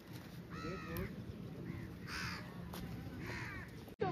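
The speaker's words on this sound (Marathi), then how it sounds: "कावळे उडवतोय" Crows cawing outdoors at a coastal photo shoot, several harsh calls in short bursts spread across the moment, moderately near over steady background noise.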